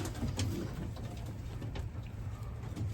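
Racing pigeons coo in a loft, low repeated throaty calls overlapping steadily with faint rustling and patter, moderately close, no voices.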